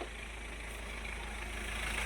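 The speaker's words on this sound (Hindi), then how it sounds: "गाड़ी भी अभी भी स्टार्ट ही है। आरपीएम भी देखिए स्लो हो चुका है, 1000 का नीचे आ गया है।" A Mahindra Scorpio BS6 diesel engine idles at low rpm with high soot mass, a steady close rumble with a constant, even drone and no talking.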